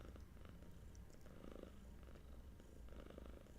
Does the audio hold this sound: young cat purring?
yes